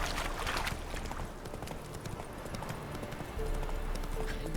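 Horse hooves clip-clopping from Roach in The Witcher 3: Hearts of Stone, a steady trotting rhythm on a road, close and fairly loud throughout.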